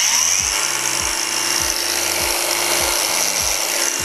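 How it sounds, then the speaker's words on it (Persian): An angle grinder runs loud and steady while cutting into a cut-proof glove, its harsh high-pitched whine filling the clip alone, with a low repeating clatter underneath. "نوبت سنگ فرزه."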